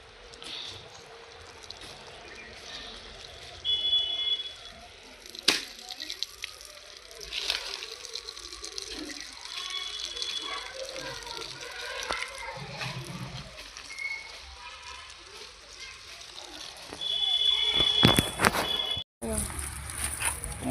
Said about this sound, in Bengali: এই যে গাছের গোড়া আগা সব জল দিয়ে দিচ্ছি।